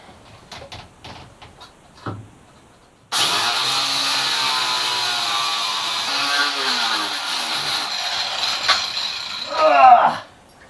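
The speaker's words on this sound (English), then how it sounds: "Cutting off these bloody studs." Cutting tool slicing through engine mounting studs during an engine swap in a wooden boat, a loud steady whine holding for about seven seconds after a few knocks, then a brief sharp squeal near the end.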